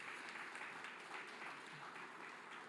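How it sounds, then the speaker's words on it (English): A faint, distant crowd claps steadily for Lori Jones at a WURD Founders Day event, with the applause forming a dense, even patter throughout. "Please give Lori Jones a round of applause."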